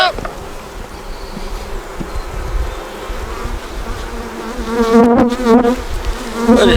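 Honeybees buzz steadily around an open beehive during a queen check, a dense continuous drone close by, swelling louder toward the end as the insects crowd near.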